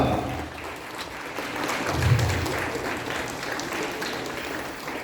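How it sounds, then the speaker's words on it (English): Moderate audience applause at a 2024 inter trade skill presentation honouring a cooking master, with a continuous wash of clapping at medium distance that swells slightly midway. "So can we have an applause for him?"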